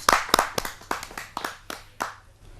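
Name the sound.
audience clapping for a poet at a poetry gathering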